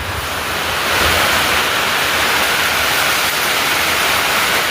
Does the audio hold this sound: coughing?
no